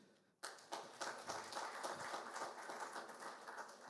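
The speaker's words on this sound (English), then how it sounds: "Please, a round of applause for him." Conference audience applauding at an investment event in Ndola, a steady patter of clapping from a room of people that begins abruptly after a moment of near silence and carries on evenly, faint overall.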